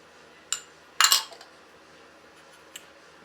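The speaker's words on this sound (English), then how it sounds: "dumping in the cocoa butter" Cocoa butter pieces dumped into a container while making chocolate truffle lip balm, a couple of sharp clinks and a brief clattering burst, close and clear against near silence.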